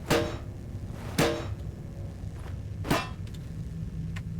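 Metal struck with a hammer in the horror video game Penumbra: Overture, three sharp clanging hits spaced about 1.5 seconds apart, each ringing briefly over a low ambient rumble.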